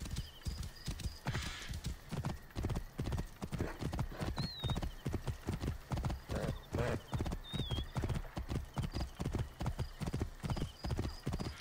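Horse hooves clip-clop in a steady, even rhythm in the game Assassin's Creed Origins, moderately close, with faint game sounds around the hoofbeats.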